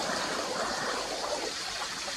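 The Veda River flows steadily in late September, a continuous rushing and trickling of water that holds an even level throughout, close by and with no voices over it.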